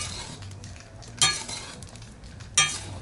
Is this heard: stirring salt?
yes